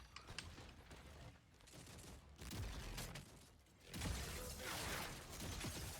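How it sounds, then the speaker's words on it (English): Distant gunfire trades back and forth in the Steel Hunters battle game, with long-range shots cracking amid mechanical clatter and a rumbling battlefield backdrop, loudness swelling in bursts. "Some long range shots, nice."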